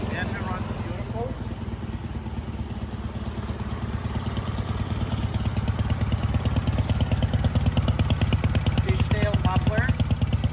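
A Dnepr MT-9 motorcycle engine with fishtail mufflers idles from a very cold start in a workshop, giving a close, steady, loud rapid thumping that grows slightly louder and more pronounced, with voices talking over it.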